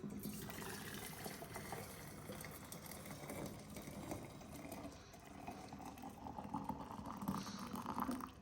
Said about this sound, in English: I'm going to transfer the water from the kettle to the gooseneck kettle